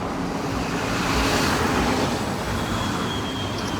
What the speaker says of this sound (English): Traffic coming at us heading into Georgetown.